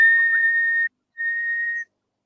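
A person whistles two sustained clear notes, the first about a second long with a brief upward slide, then a pause before a shorter second tone, loud and close with no other sound.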